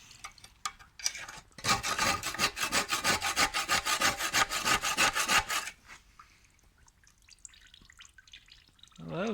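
Metal fork scraping inside the fuel tank of a Peugeot Fox moped, a steady run of rapid rhythmic rasping strokes for several seconds, close and fairly loud, then fading into quieter handling noises.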